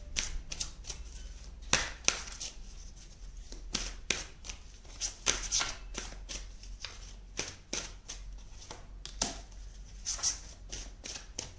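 Tarot cards are shuffled and drawn from the deck, making a quiet run of crisp riffles, flicks and soft slaps at an uneven rhythm, with no talking.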